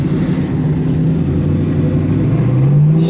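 A 1999-2004 Ford Mustang GT fitted with a Pypes off-road X-pipe and Flowmaster cat-back exhaust gives a loud, close, deep steady rumble, then revs up with a rising growl near the end.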